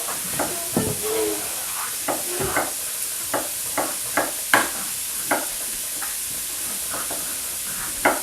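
Chopped onions sauté in a pot for a vegan mushroom chowder with a few seasonings, giving a steady soft sizzle and hiss while a spoon scrapes and taps against the pot at regular intervals.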